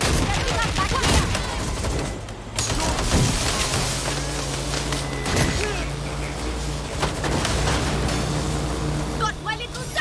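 Heavy gunfire in Watch Dogs Legion, a dense, continuous spray of shots and impacts lasting the whole clip, with shouting voices and a low engine-like hum underneath.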